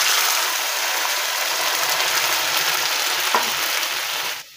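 Loud, steady sizzling from a pan as tomato pulp fries and crackles hot while making tomato soup, with a brief clink of a utensil near the end before it quiets.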